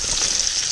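Trout frying in a pan, a steady dense hiss of sizzling oil held close and even throughout, with no other sound over it.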